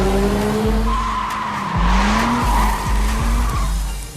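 A car drifts in a Tokyo Drift action film, its tires skidding in a loud, sustained screech over a droning engine whose pitch rises and dips, with no voices.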